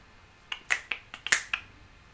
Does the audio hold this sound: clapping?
yes